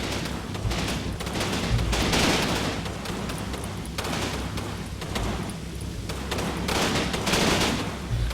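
Machine gun fire in Combat Mission: Battle for Normandy, sustained bursts and fusillades crackling near and far in a dense continuous battle din, with no speech.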